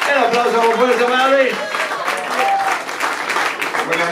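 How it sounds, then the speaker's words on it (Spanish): A concert crowd claps strongly and continuously, a thick wash of applause with someone talking over it on a microphone, the clapping holding steady to the end. "El aplauso muy fuerte para"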